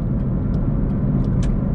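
A turbocharged D16Y7 Honda Civic on untuned street driving gives a steady, loud low engine and road drone from inside the car, with a few faint hisses over it.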